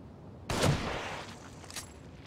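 A single gunshot fired in the horror video game The Evil Within, a sharp sudden blast followed by a lingering reverberant tail, no talking over it.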